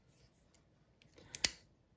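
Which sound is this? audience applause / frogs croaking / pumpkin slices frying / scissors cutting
scissors cutting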